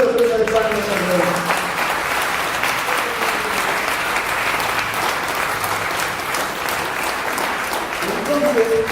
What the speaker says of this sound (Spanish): Dale una fuerte ofrenda de palmas al Señor.